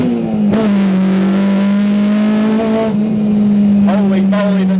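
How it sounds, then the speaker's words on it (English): K20-swapped Honda Civic EG engine droning loudly at steady revs while driving, with sharp rising and falling rev blips near the end, dense and close, with people talking over it. "this has got to be the loudest car I think I've ever reviewed on Kiwi Car Life"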